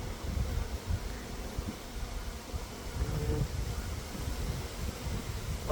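Honeybees in a hive opened for a fall inspection hum in a low, continuous, fairly faint drone, with soft rustling from the frames and no talking.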